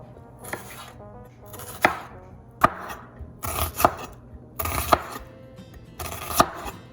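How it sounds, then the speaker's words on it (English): A knife chops onions on a board for a sweet pepper garden pizza, five or six distinct bursts of crisp cutting strokes with short pauses between, close and clear. "So we're gonna cut some of these onions up for the pizza"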